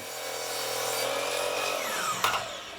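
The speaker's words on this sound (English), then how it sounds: "Now I'll take the panels down and trim each one to length by cutting to the line I've just drawn." A power saw cuts wooden panels to length for an outdoor garbage enclosure: a steady, loud whining cut runs nearly the whole time, ending in a brief sharper burst as the blade finishes.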